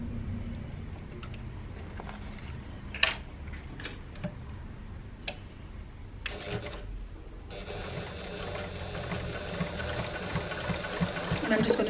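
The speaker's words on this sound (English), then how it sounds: "And I'm just going to sew all the way around." Domestic sewing machine stitching around the edge of an Ethel tote bag, its steady rapid mechanical ticking running throughout, with a few sharp clicks and a busier, louder stretch of stitching toward the end.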